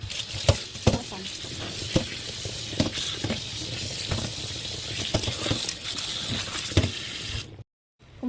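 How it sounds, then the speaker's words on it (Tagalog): Water boils in a pot for pork soup with a steady bubbling, pattering hiss, punctuated by sharp clinks and stirring knocks, briefly cutting out near the end. "Kumukulo na yung tubig"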